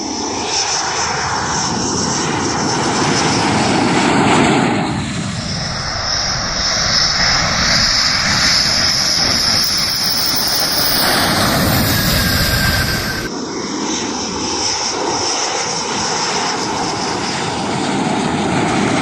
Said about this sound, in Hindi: 3 राफेल विमानों की नई खेप भारत पहुंच गई है